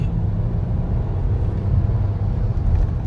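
Skoda Kushaq 2026 SUV accelerating hard on a highway, a steady, loud low engine and road rumble heard from inside the cabin, continuous with no gaps.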